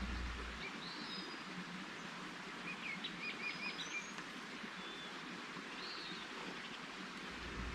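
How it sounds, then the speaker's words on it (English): Birds chirp and sing outdoors at a campground, scattered calls over a quiet background with a faint rushing hiss. "birds are amazing"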